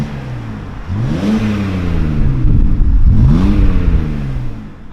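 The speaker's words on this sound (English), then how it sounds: "Give her a little rev." A BMW car engine revs twice, with two distinct rising-and-falling sweeps, loud and close by with no talking.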